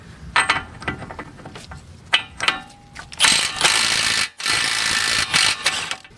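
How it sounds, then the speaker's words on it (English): An impact wrench loosens a 32mm axle nut on a 2010-2016 GM 3.6 vehicle such as a Buick LaCrosse, with short clicking bursts and then a sustained loud rattling hammer, stopping briefly, close up. "In my case here, I'm just going to be using my impact, and it is a 32mm on here."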